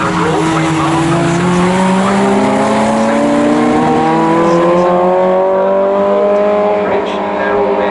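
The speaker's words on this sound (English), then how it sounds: "making a bit of a charge now to try and catch Tris Simpson in 2nd place" Ferrari Formula Classic racing cars scream past at Snetterton circuit, engines holding high sustained revs with rising and falling pitch as they pass. A race commentator talks continuously over the loud, steady engine roar.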